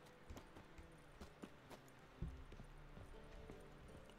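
Horses in the video game Witcher 3 give off faint, sparse hoof clops and soft shuffles under a low ambient game bed, with one duller thump partway through.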